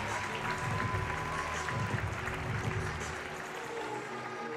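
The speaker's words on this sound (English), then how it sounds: "Huge reaction from the crowd as she enters the stadium" A stadium crowd applauds at the 2022 European Climbing Championship in Munich, during the women's lead semifinal, as a climber enters. The clapping is dense and continuous but faint and distant, slowly thinning out.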